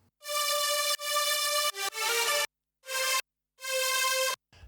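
A bright, harmonic synth melody from a remix drop plays in sustained phrases broken by short gaps, loud and clean with no voices.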